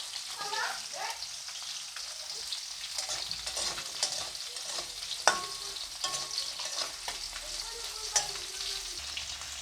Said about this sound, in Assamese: মোৰ মছলাখিনি ভাজা হৈ গৈছে